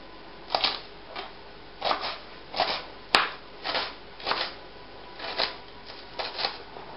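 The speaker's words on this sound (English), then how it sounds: "So you dice up the onion roughly," Knife blade rhythmically hitting a cutting board while an onion is roughly diced, about a dozen crisp chops spaced half a second apart, close and moderately loud.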